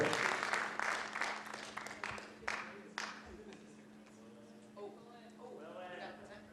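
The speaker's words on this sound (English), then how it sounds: "Applause for Ms. Thirsty." Studio audience applause on a 2008 quiz game show, with loud clapping at the start that thins into scattered claps and fades as a host's voice and background murmur take over.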